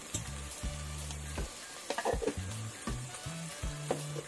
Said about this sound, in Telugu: మనం ఇలా కలుపుతూ ఉండాలండి మధ్యలోను, వంకాయని మాడకుండా అడుగంటుకున్నాం అన్నమాట.